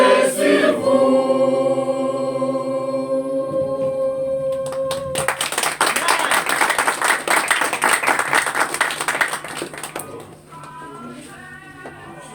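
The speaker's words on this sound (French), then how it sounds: "Applaudis la chorale de la terre promise." An audience applauds the choir of the Mission Évangélique de la Terre Promise at a church service, steady dense clapping rising after a sung passage fades and continuing for several seconds before thinning out.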